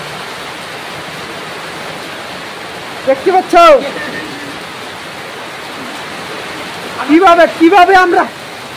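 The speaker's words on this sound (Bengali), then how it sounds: "প্রচণ্ড বৃষ্টি হচ্ছে, প্রচণ্ড বৃষ্টি" Heavy rain pours down in a steady, loud hiss that fills the whole stretch, with someone speaking briefly twice over the downpour.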